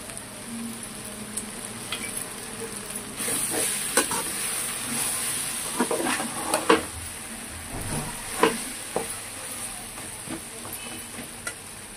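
Oil sizzling in a pan with a steady hiss while making gongura pickle, interrupted by scraping and clanking as a utensil stirs now and then; no voices.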